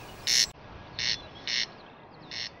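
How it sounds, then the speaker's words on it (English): A corncrake calls in a meadow with four short, rasping, evenly spaced bursts, fairly close over a faint background hiss. "there is one bird that owes its very existence to the maca, the elusive corncrake"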